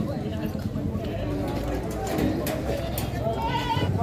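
Goats bleat at a busy livestock market in Padre Garcia, Batangas, with steady crowd noise and overlapping talk from buyers and sellers.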